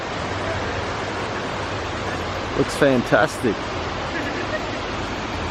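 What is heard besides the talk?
waterfall at a mountain viewpoint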